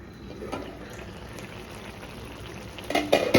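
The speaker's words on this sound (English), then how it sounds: "let it cook on the slow flame until the water dries." Covered pot of Goan teesrio clams cooking over a slow flame, giving a faint, steady bubbling simmer, followed by louder clattering and liquid sounds near the end.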